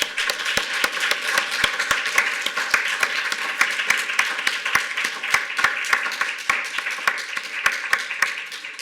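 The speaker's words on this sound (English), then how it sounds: "join me in a round of applause for Professor Sue Holmes." An auditorium audience applauds a professor after an inaugural university lecture, a dense, sustained round of clapping with sharper individual claps standing out throughout.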